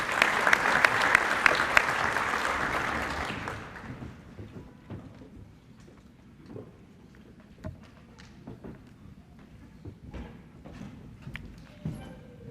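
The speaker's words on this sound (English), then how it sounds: "Join me in a round of applause for Upper Iowa University graduates." Audience applause at a college commencement honoring Upper Iowa University graduates at the Barton Community College Fort Riley Campus ceremony, a loud, dense burst of clapping that fades within a few seconds, leaving scattered claps and room noise.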